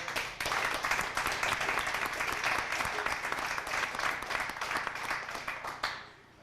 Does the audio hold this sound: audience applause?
yes